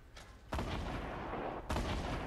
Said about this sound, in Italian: Sentivo di spari in realtà da qua.